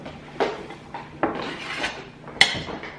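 Cut potatoes dropped into a slow cooker land in a few separate knocks and clatters against the pot, close, with one sharper hit near the end.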